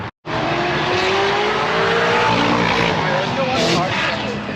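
A car revs hard and accelerates with a sustained, loud tire squeal, engine noise filling the scene from start to finish.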